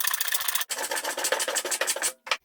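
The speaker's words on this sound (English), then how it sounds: "Planing is less annoying than sawing" Repeated rasping strokes of a hand plane shaving a wooden board, close and steady, each pass a broad scraping swish, ending with a brief pause and one short final stroke.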